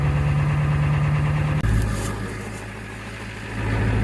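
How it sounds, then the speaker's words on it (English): A Powerstroke pickup truck's diesel engine idles steadily up close while warming up, a low even rumble that briefly cuts out, then settles to a softer idle before building again. "I got to let the truck warm up a bit"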